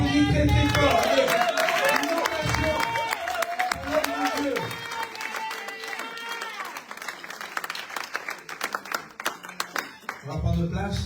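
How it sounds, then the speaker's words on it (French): A church congregation claps loudly at a consecration service, with dense clapping mixed with music and singing voices that fade midway, then thin scattered claps before a loud burst returns at the end. "On applaudit très très fort."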